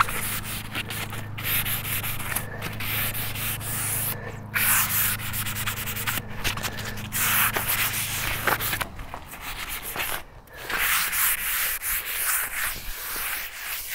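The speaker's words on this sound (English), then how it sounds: "Just gonna lightly sand it." Continuous rubbing scrape of light hand sanding on a previously painted house exterior, close and steady with rhythmic strokes, alone over a low background hum.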